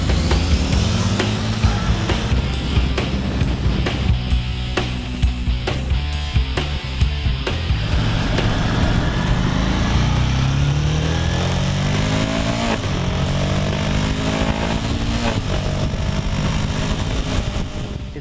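A 2014 Harley-Davidson Street 750 twin is ridden on the road, its engine droning loudly and continuously, rising and falling in pitch through gear changes and throttle, with wind rush over it.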